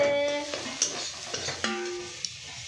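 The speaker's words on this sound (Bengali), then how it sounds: "এখানে ডিম ভাজছি আমি" Eggs frying in a pan, heard as a brief close sizzle with a few light utensil clicks and scrapes, opening over a faint tonal hum.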